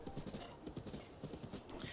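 A horse gallops in Zelda: Breath of the Wild, its hooves making quick, steady clip-clops under speech.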